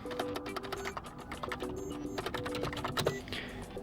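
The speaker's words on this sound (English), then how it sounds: "below type your contact name" Rapid keyboard typing clicks away continuously at close range, with irregular quick keystrokes, as a contact name is entered on a Redmi 15C 4G phone form.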